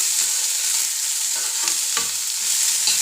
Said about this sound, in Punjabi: ਇਹਦੇ ਵਿੱਚ ਆਪਾਂ ਐਡ ਕਰ ਲੈਣੇ ਆ ਟਮਾਟਰ ਟਮਾਟਰਾਂ ਨੂੰ ਵੀ ਆਪਾਂ 1-2 ਮਿੰਟ ਲਈ ਪਕਾ ਲੈਣੇ